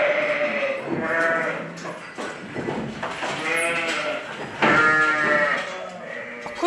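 Dairy ewes on a French sheep farm bleat repeatedly, several wavering, nasal calls overlapping and close by, some louder than others, over a murmuring flock with no talking.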